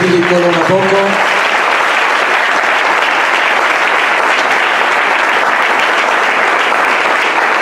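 Church congregation applauding loudly and continuously in acclamation of the Lord during a worship service, a dense sustained clapping that fills the whole stretch, with a brief spoken voice near the start.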